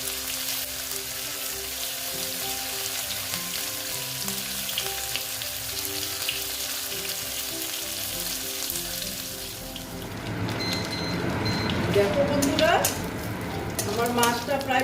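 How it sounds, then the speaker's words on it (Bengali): Dried fish (shutki) frying in hot oil in a pan, a loud continuous sizzle that grows busier and crackly toward the end, with a spoon stirring and a voice speaking at times. "দিয়ে ভালো মতন আমি এটা ভেজে নেব"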